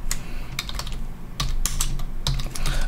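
Steady typing on a computer keyboard while entering a name in a firewall management command line, a close, busy run of irregular key clicks with a few louder strokes, no talk.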